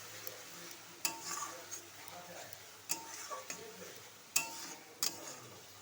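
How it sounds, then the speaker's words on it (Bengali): Spices with turmeric and Kashmiri chilli powder are sautéed in a pan for egg curry. A spoon scrapes and clinks in sharp bursts over a low, faint sizzle. "এবার সব একসাথে ভালো করে কষিয়ে নেব।"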